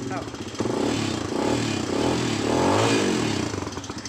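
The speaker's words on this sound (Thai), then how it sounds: "มาสตาร์ทเครื่องได้แล้วครับพี่น้อง" A Platinum 250 motorcycle engine, freshly revived with a new chain and sprocket, runs close by with a rough, steady rumble and slight rising revs.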